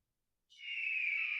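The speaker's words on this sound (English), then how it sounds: "I think this is a hawk." Hawk call, a single harsh, rising screech that starts abruptly after a short silence and holds steady, clear and alone.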